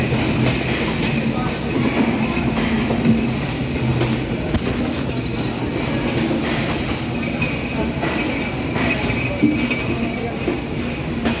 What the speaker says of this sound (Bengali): যাক আলহামদুলিল্লাহ ট্রেনটা থেমে গেল, আপনারা দেখতে পারলেন।